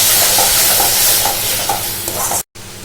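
Tomato paste and masala for a prawn curry being mixed in a hot pan, a loud dense sizzle with soft rhythmic scraping, cut off briefly near the end.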